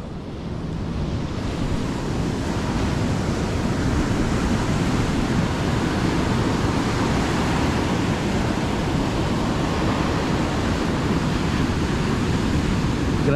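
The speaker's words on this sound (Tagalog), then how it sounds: "Laki na ulit ng alon." Ocean waves surging in steadily with rising water and wind, a continuous loud wash of surf and wind noise with no talking.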